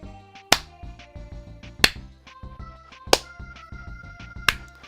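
A slow clap from the video game Donkey Kong Country 2: four loud, evenly spaced claps about 1.3 seconds apart, ringing over a bed of tonal game music.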